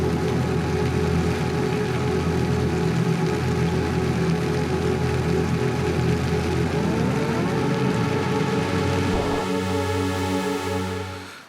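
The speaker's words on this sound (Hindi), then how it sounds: "बहुत तेज़ बारिश हो गई" Heavy monsoon rain pours down over farmland near Udaipur, Rajasthan, in a steady, dense roar, with a low motorbike engine hum underneath that drops away near the end.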